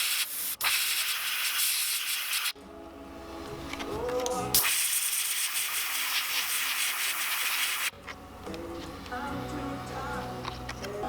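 An airbrush sprays paint onto a neon tetra fish lure in a steady hissing stream that cuts off and restarts in several bursts, with someone talking in between.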